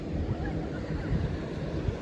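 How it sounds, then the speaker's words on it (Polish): Sea waves wash onto a beach in Belgium, a soft steady surf rush mixed with wind buffeting the microphone, faint and continuous with no talk. "Także tak wygląda plaża i morze w Belgii"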